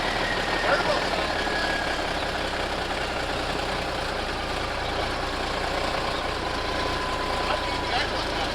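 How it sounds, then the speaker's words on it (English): Turbo diesel truck with a big-cam 350 engine and a freshly installed injection pump idling, a steady broadband rumble with turbo whine, continuous and fairly close, with people talking over it. "Turbo sounds good."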